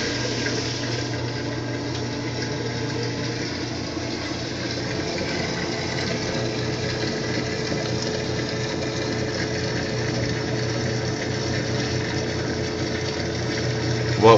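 A home washing machine drains water with a steady pump hum and a rushing flow that runs unbroken at an even level for about fourteen seconds.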